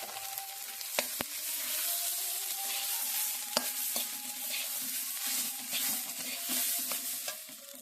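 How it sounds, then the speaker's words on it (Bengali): Rice grains coated in turmeric fry in ghee and spices with a steady, close sizzle, broken by occasional sharp scraping clicks as a utensil stirs the pan. No one speaks. "চালটা ভাজা হয়ে গেছে প্রায়, এবার আমি এতে জল দেব"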